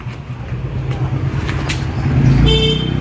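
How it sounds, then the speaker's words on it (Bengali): A car arrives close by with a loud engine hum that swells toward the end, a short horn toot, and road noise around it. "গাড়ি এসে গেছে"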